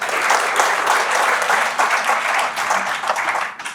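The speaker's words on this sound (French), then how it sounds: "Applaudissez-le" Audience applause at a book signing ceremony, dense and sustained clapping from a large crowd, loud and steady throughout with a slight fade at the end.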